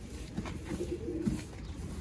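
Sialkoti Tunia pigeons coo in soft, low, throaty murmurs that repeat a few times over a steady background hum, close but quiet.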